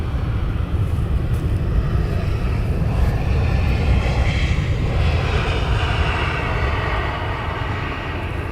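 An EasyJet airliner at Amsterdam Schiphol Airport gives a loud, steady jet roar that holds for the whole stretch and eases slightly toward the end, with no voices.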